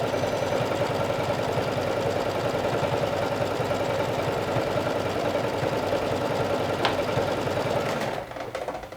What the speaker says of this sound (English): stitch on top with a long straight stitch